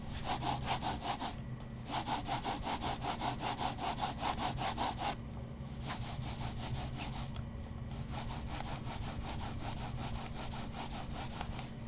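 A gaming mouse slides back and forth over Artisan FX Hyate and FX0 cloth pads, a close, rhythmic scratchy swish that changes texture partway through as the surface switches.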